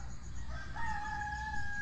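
A rooster crows once on a quiet mountainside, a faint, distant call with a rising, sustained note over a low rural background.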